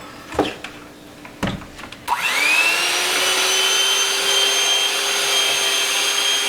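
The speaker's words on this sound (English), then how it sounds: "we're going to beat these until they're frothy before we add our other ingredients" Following a few knocks and clicks, three eggs for a buttermilk pie are beaten until frothy, giving a steady, close, high motor whir that holds without pause.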